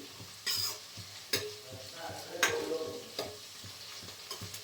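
Chicken fries in a pan with chili powder and turmeric, giving a low steady sizzle broken by several sharp scraping stirs of a utensil against the pan, close and moderately loud.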